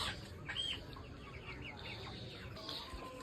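Chickens cluck and squawk faintly at a poultry shop, with brief calls over a low background murmur of the shop.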